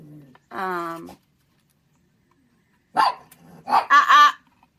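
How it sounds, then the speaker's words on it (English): Dogs barking indoors at home: one harmonic bark early, then a cluster of several sharp barks and yips near the end, loud and close, with silence between. "I do have some new things to try to quiet the dogs down."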